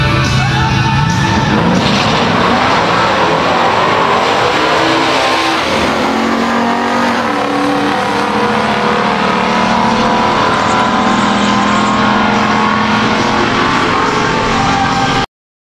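Loud roaring engines of a 1970 Dodge Challenger R/T and a 1969 Chevrolet Nova SS, both stock, accelerating hard down a drag strip, revving and building in pitch, with a faint crowd murmur behind.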